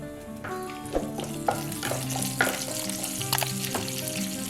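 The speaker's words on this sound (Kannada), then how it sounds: "ಸಾಸಿವೆ ಜೀರಿಗೆ ಹುರಿದಾದ್ಮೇಲೆ ಸ್ವಲ್ಪ ನಾನೀಗ ಕರಿಬೇವು ಹಾಕ್ತಾಯಿದ್ದೀನಿ" Curry leaves added to mustard seeds and cumin frying in hot oil for a North Karnataka brinjal dish, a loud close sizzle with sharp crackles and spluttering pops plus stirring clinks.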